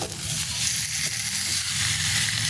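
Potato, pointed gourd and shrimp fry in spice paste and oil, giving a steady, loud, close sizzle that runs unbroken with faint stirring under it.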